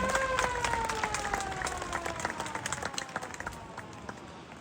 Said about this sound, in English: And I think for that alone she deserves a round of applause, don't you?